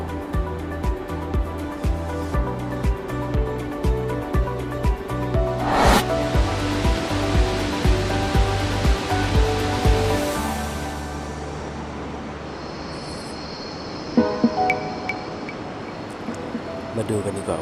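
Huai Suwat waterfall pours with a steady, broad rushing roar that fills the scene, strong and continuous, while faint voices and small sounds surface briefly toward the end.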